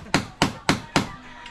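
A hammer striking: four sharp, evenly spaced blows, close and crisp, each decaying quickly, with no one talking.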